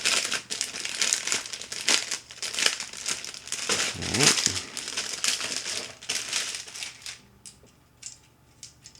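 A plastic bag holding parts for a Rye Field Model Tiger I tank kit is opened and handled, giving loud, close crinkling and rustling that runs for several seconds before it fades to faint, scattered crackles.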